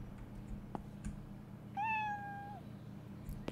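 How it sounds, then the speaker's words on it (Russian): A single cat meows once, a clear, drawn-out, moderately near call of under a second, over a low background hum with a few faint clicks. "Че там кто у нас мяукает"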